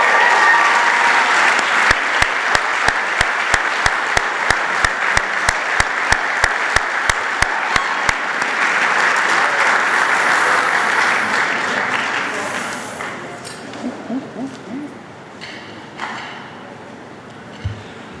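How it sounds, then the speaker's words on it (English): Applause at a university athletic hall of fame induction ceremony: a sustained, loud crowd clapping for about twelve seconds, then tapering into scattered claps and murmuring in a large hall. "Let's have a big round of applause for the class of"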